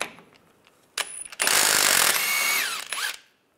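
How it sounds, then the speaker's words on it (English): A power tool, likely an impact wrench, spins a 24 millimeter socket to remove the inner tie rod nut on a 2007-2013 Chevrolet Silverado steering rack, sounding as one loud, sustained whir of about two seconds after a few faint clicks. "Then we'll take this nut off using a 24 millimeter socket."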